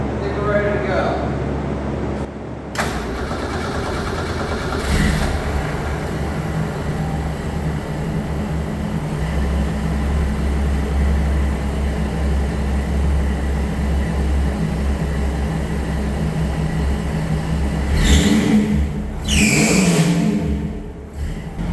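A 1962 Ford Falcon with a Ford 200ci six-cylinder fires after a short crank and settles into a steady, droning idle that runs for about twenty seconds, with a brief louder surge near the end.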